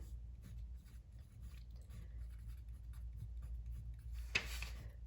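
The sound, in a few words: writing down a math problem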